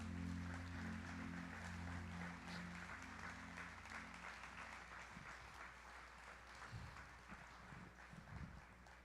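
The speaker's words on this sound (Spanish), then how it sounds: "usted dale un aplauso bien fuerte al Señor" Church congregation applauding the Lord during a Spanish-language service, a steady, fairly quiet wash of many hands clapping over a low musical hum that fades out early.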